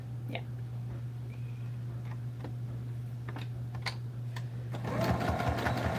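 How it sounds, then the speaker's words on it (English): Home sewing machine straight-stitching two pieces of fabric together, a steady close mechanical whir with light ticking needle clicks, growing louder and busier near the end. "let me sew that together really quick"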